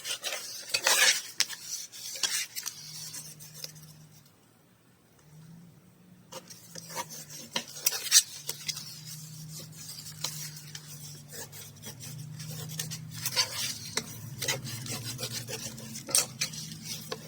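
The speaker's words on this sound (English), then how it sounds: "Burnish, burnish, burnish where that glue is." Glued paper envelope pockets for a vintage coffee journal are burnished by hand, giving repeated dry rubbing and scraping strokes, close and fairly loud, pausing briefly midway before resuming, with a faint low hum beneath.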